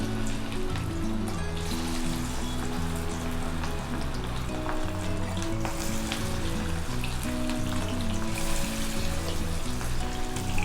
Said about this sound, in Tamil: இப்போ நம்ம செகண்ட் பேட்சும் அதே போல் நம்ம ஒவ்வொரு இறாலாக நம்ம ஆட் பண்ணிக்கலாம்